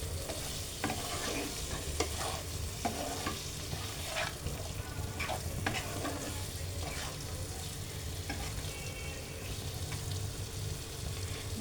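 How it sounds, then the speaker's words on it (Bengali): Sponge gourd being stirred with spices in a hot pan gives a steady, close sizzle and frying hiss, with repeated scrapes and clinks of the spatula throughout. "2 থেকে 3 মিনিট আমি আবারও জালিটাকে মশলার সঙ্গে কষিয়ে নেব।"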